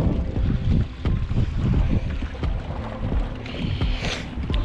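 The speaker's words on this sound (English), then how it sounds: "once we get back here where the wind ain't blowing so hard" Wind rushes steadily across a lake around a fishing boat, buffeting the microphone with loud gusty rumble and faint water sloshing against the hull.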